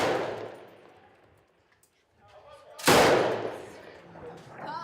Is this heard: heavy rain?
no